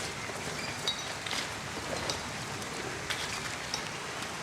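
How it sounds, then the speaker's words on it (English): Soft, steady drizzling rain heard from inside a damp stone chamber, a faint continuous hiss with scattered light drop ticks and no talking. "Damp stone and dim light as the sound of drizzle from outside echoes in the musty chamber of Finley's illicit shop"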